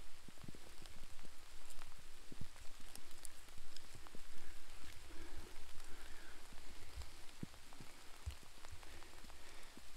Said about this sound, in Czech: Procházíme se dál deštěm